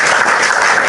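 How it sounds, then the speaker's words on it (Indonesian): A brief burst of audience applause at a religious talk, a dense, even wash of clapping hands lasting under a second. "Nah, tepuk tangan"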